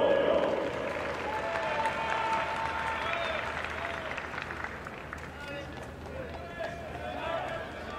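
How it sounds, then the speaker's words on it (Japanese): Baseball fans in a stadium without noisemakers or cheering keep up steady, sustained clapping for a game against the Hokkaido Nippon-Ham Fighters, a broad distant crowd sound under a commentator's voice. "懸命な拍手で声援を送っています"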